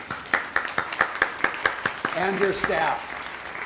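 Audience applause at a lifetime achievement award ceremony: a run of sharp, evenly spaced claps for about two seconds, then a speaker's voice takes over with faint clapping fading beneath it.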